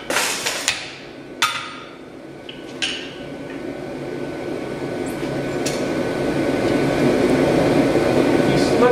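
A power striking hammer punching through 1 5/8 inch square 4140 steel at an anvil: several sharp metallic blows early on, then a rising rumbling machine noise that builds steadily.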